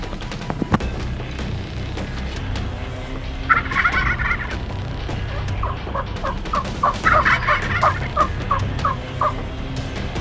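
Wild turkeys gobbling in Nebraska: two or three rattling gobbles at mid distance, followed by a series of short clucks, over a quiet outdoor background with no speech.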